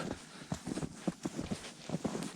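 Hooves of draft horses, mares, clop in an uneven walking rhythm at close range in Ukraine, a steady series of soft knocks with faint background noise.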